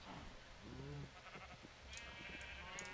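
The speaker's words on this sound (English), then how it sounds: "Okay, so I'm gonna slaughter some of these sheep." Sheep in the Minecraft video game bleat in short, wavering calls, a couple of distinct bleats over a low background hum with faint clicks.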